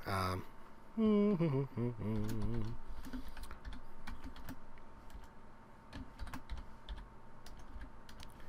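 Rapid clicking of a computer keyboard as a level name is typed into the CryEngine editor, soft and close, in a dense burst of keystrokes after a few spoken words, with a few scattered taps afterward.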